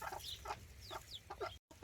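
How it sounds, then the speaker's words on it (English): A rooster and his hens clucking close by in a backyard flock, soft repeated clucks and short calls in an irregular rhythm, with no crowing. "So this is the rooster that's always crowing in the morning that you hear."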